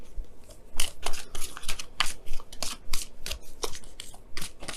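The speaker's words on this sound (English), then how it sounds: "Let me go ahead and pull you guys your wisdom of the oracle for the week." Oracle cards being shuffled by hand for a reading, a close run of papery riffles and slaps in an uneven rhythm, loud and continuous with no speech.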